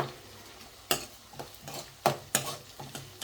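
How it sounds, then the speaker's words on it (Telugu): Spicy Andhra-style mutton keema fries in a pan, a soft steady sizzle broken by several sharp scraping stirs of a spoon against the pan, close and fairly quiet with no talk. "ఇంకా బాగా వేగాలి"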